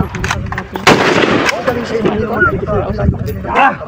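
Rifle shots crack at an army reservist marksmanship training range, a sharp loud report followed by further firing amid shouted commands and nearby talk.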